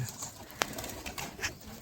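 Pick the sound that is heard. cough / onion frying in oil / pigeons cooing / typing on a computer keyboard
pigeons cooing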